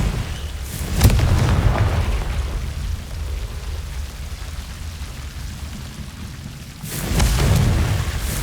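Confringo blasting spell explosions from Hogwarts Legacy: a deep booming blast at the start, a low rumbling lull, then a second heavy rumbling burst near the end, loud and without talk.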